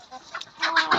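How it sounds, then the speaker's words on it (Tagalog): Vietnamese backyard chickens cluck and peck at their feed up close, a brief burst of soft calls rising into louder clucking. "Vietnamese na manok"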